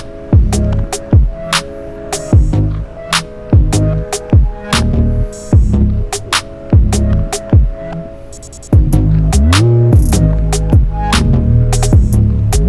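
An electric hair trimmer buzzes steadily up close, its hum interrupted again and again by sharp clicks and scraping taps as it moves.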